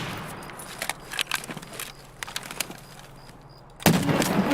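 Gunshots in a video game crack out as a scattered series of sharp, fairly quiet pops, followed by a louder burst near the end.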